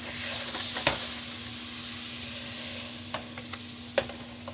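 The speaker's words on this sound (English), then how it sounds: "Starting with my butter. I'm going to go ahead and get that melted." Butter melting in a pan on a stovetop set to medium heat gives a soft, steady sizzle, with a few sharp clicks and taps of utensil against pan scattered through it; no one speaks.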